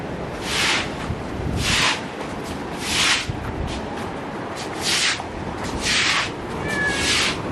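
A cat at a rainy villa in Portland, Jamaica, meows repeatedly in loud, drawn-out cries spaced a second or so apart, close to the microphone over a steady background hiss.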